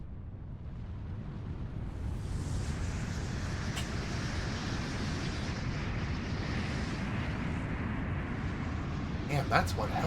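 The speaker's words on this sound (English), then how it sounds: "that's one hell of an explosion" A long, rumbling roar of an explosion of light in the video game Kingdom Hearts Birth By Sleep, a broad sustained wash that swells after two seconds and holds steady, with a few sharp crackles near the end.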